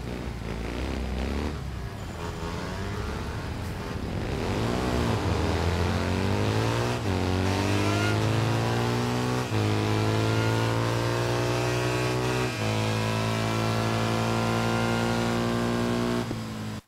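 Motorcycle engine in the racing game Ride 3 revs hard and loud, its pitch climbing through several gear shifts before settling into a sustained high drone, with no voices over it.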